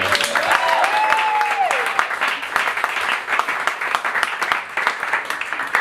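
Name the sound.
applause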